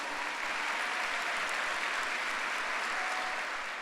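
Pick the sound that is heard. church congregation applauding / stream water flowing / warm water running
church congregation applauding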